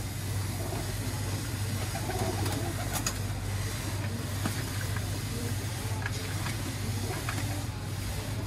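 Golden Ferozepuri pigeons coo softly in low, repeated murmurs over a constant background hum, fairly faint and continuous.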